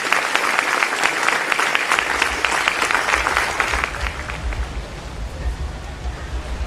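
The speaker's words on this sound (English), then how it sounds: "Let's give them a round of applause for what they do and who they are." A crowd at a police press briefing breaks into a round of applause, dense and loud for about four seconds and then thinning and fading, with a low room rumble underneath.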